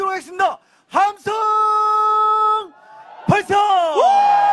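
A large crowd at a religious rally and protest in front of Seoul City Hall lets out loud sustained shouts and whoops, with long held bellowing voices that rise and fall close by.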